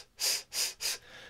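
Three quick, forceful breaths close to the microphone during a singing lesson on diaphragmatic breathing, evenly spaced and airy, followed by a quieter exhale.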